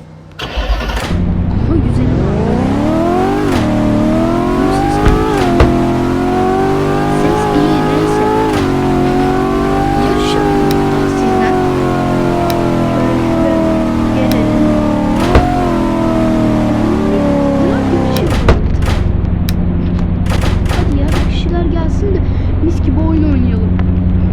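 Mustang engine in a Roblox car race game, loud and close, revving up and holding a high steady drone for most of the time before dropping to a lower rumble near the end, with a voice talking over it.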